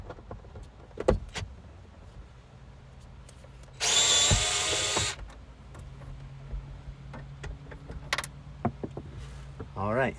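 A power tool removing the screws of a third brake light inside the trunk of a 2011-2015 Chevy Cruze, one loud whirring burst of about a second amid small clicks and handling noises, close by.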